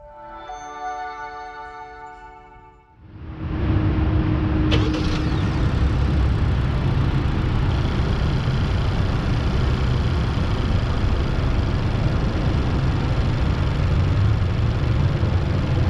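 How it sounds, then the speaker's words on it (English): A 2022 Honda Civic Sedan starts up after a few seconds of chimes, then its engine settles into a loud, steady rumble that carries on as the car drives off. "let's hit the start button and get this thing on the road"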